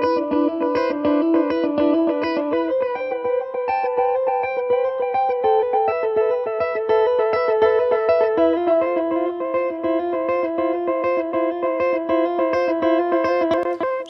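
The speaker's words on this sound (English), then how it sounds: "really ambient kind of modulated delay sounds going on" Ambient guitar lines drenched in a modulated delay from a Soundtoys EchoBoy plugin, with shimmering repeats and wavering echoes trailing each note; loud, steady and dense throughout, no voices.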